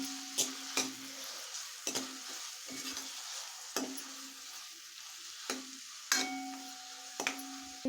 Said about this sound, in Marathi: तर टोमॅटो आहे ते पूर्ण मेल्ट होईपर्यंत आपल्याला परतून घ्यायचं आहे